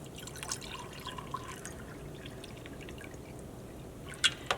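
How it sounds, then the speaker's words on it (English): Water trickles into jars being filled almost to the top for a children's science experiment, a faint, quiet pour with a few sharper drips near the end. "Fill the jars with water almost to the top."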